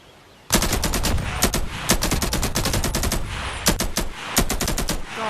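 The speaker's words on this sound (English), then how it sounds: "I mean, no kidding, it's an AK-47." An AK-47 assault rifle fires in the VR game Bonelab, loud rapid bursts of automatic gunfire in several quick strings with brief pauses between them, close and alone.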